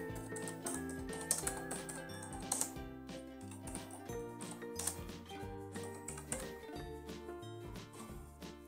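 Typing on a computer keyboard while writing text in Microsoft Word, a steady run of light clicking keystrokes up close, heard over background music.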